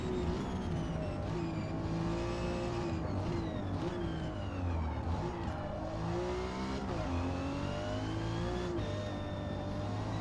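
A race car in the Forza Motorsport video game drives the full course at Virginia. The loud engine drones continuously and rises and falls in pitch through revs and gear shifts, with no talking.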